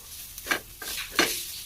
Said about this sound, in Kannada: ಪೂರ್ತಿ ಮಿಕ್ಸ್ ಮಾಡೋಣ.